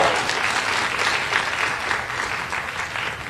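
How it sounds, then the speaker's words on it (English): An audience at an evening fireside chat breaks into dense, loud applause that continues evenly for a few seconds with no voices over it. "She said give a round of applause, but I heard 2 rounds."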